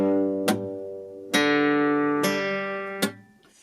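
Four strummed acoustic guitar chords, evenly spaced and left to ring, with the second string muted by a fretting finger so the chord sounds slightly dull and buzzy; each strum rings out alone.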